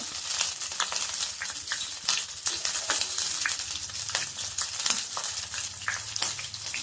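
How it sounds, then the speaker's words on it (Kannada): Green chillies sizzle and crackle steadily in hot oil in a home kitchen, with a continuous bright frying hiss broken by scattered pops and the occasional scrape of stirring; no one speaks. "ಎಣ್ಣೆ ಕಾದ ನಂತರ ಹಸಿಮೆಣಸಿನಕಾಯಿಯನ್ನು ಅದರೊಳಗೆ ಹಾಕಿಕೊಳ್ಳೋಣ."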